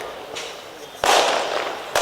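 Firecrackers burst at a political campaign rally in sharp, crackling blasts, with one loud eruption followed by another, sounding fairly near and harsh.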